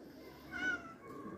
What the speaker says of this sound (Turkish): Çatıdaki kedi hala böğürüyor.